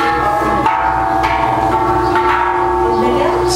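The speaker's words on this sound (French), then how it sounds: "C'est assez bruyant parce que les enfants sont en train de jouer avec les cloches derrière." Children ring bells behind a temple in Thailand, a steady clangor of overlapping metallic strikes with long ringing tones, loud and continuous.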